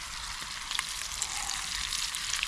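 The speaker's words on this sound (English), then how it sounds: "Look at them sizzle" Mushrooms sizzle in butter in a pan over a campfire in the Black Forest, a steady bright crackle and hiss with small pops, close and continuous, with no one talking.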